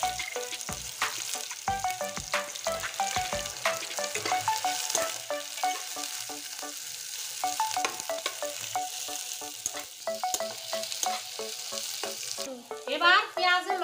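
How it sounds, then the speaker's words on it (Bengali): Chopped onion sizzles and crackles in hot oil seasoned with cumin, frying steadily for a Bengali fish curry, with utensil clinks and stirring scrapes throughout and a louder clatter near the end. "পেঁয়াজটা এখন তেলে ছেড়ে দিচ্ছি।"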